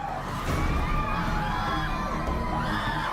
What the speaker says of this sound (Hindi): देखते ही देखते दरबार में चीख पुकार और तेज हो गई।